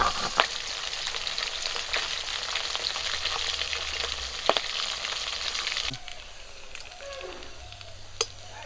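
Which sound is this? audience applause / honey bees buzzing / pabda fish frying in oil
pabda fish frying in oil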